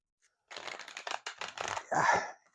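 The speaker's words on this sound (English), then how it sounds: "one more shuffle." Tarot cards are shuffled by hand near the microphone in a quick series of papery riffling bursts, ending in a louder final riffle with no talking.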